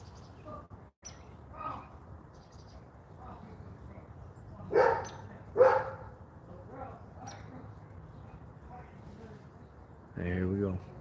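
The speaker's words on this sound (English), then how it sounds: "These idiots with these dogs out here are going to be barking all over the place." Dogs outside bark a few times, two sharp barks standing out in the middle and another toward the end, amid birds chirping and background noise, heard at some distance.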